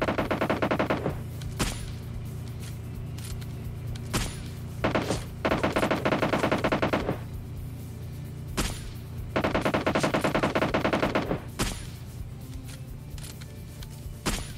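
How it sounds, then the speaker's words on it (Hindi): Automatic gunfire from an enemy squad on the left in the game PUBG Lite, heard as repeated rapid bursts of shots separated by short pauses, with occasional single cracks, at moderate volume with no talk. "लेफ्ट साइड से गनशॉट की आवाज आ रही, तो लेफ्ट साइड एक स्क्वाड है ना, ये वहां से चला रहा है गोली"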